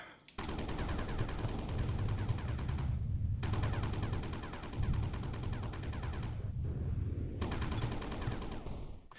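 Gunfire in the Sandustry video game: dense, rapid shots rattle in long continuous bursts, cutting out briefly twice before resuming, loud and close.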